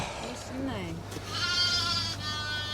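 A sheep on a farm during lambing season gives a drawn-out bleat, fairly close, over steady wind noise and a low engine hum, with a person talking nearby.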